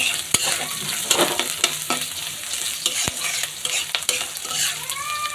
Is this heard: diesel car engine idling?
no